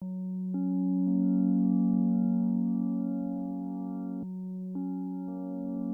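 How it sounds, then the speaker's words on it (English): A simple three-note synth melody made in Serum and played in FL Studio for a sad slowcore track: soft sustained tones that hold and shift at a slow pace, gentle and fairly quiet, with no voices. "I have this 3-note progression melody underneath it. Also very simple, made in Serum."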